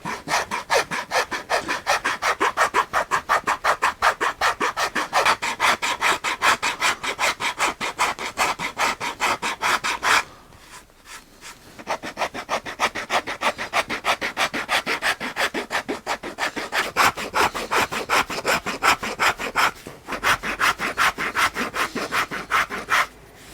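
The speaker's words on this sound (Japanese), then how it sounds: "ヤスリで断面を整えていきます。" A rasp files the edge of a stacked leather shoe heel in fast, even back-and-forth strokes, close and loud, with a brief pause near the middle and a short one near the end, no talking.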